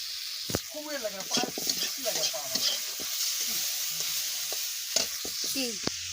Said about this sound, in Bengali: এবার একটু শুকনো করে ভেজে নিলাম